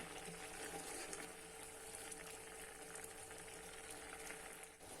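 Quiet, steady bubbling and sizzling of a Christmas fruit cake mixture boiling in a pot, a constant low churn with small pops throughout.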